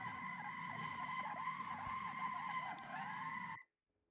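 A car in a driving game skids and spins out, with steady loud tire squeal and engine drone running throughout before cutting off abruptly.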